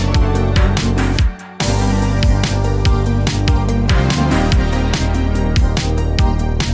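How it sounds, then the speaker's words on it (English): A pop track with dense drums, bass and synths suddenly cuts to near silence for a brief stop between chorus sections, then slams back in at full loudness. "I added this stop effect between the parts of the chorus"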